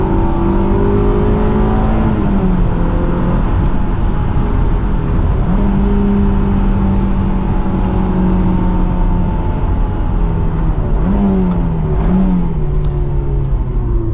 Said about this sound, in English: It's so fun to rev this out.